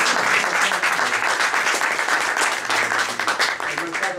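An audience at a book event applauds for the president, with a steady burst of dense clapping at moderate loudness that tapers slightly toward the end while a voice is faintly heard.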